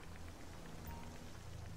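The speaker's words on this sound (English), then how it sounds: "it's raining, so it shouldn't take them that long" Steady rain falls outside a fire station, a dense, even hiss of drops hitting surfaces with a low rumble beneath, continuous and unbroken throughout.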